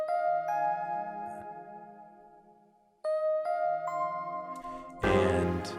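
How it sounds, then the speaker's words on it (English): A Hydrasynth synthesizer playing a piano pad patch: sustained chords with clear bell-like attacks that decay, a pause, then new chords, ending in a bright, dense swell. Alone, with no talk. "it's the Hydrosynth piano pad"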